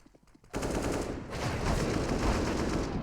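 Rapid bursts of automatic gunfire from a competitive shooter esports match rattle loud and continuous, kicking in abruptly after a brief quiet start and sustaining dense overlapping shots.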